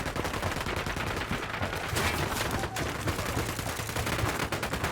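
Gunfire in the video game Ghost Recon Wildlands, a dense burst of loud rapid shots and cracks filling the whole stretch with no speech.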